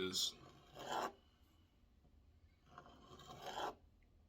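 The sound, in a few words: paring knife scraping avocado skin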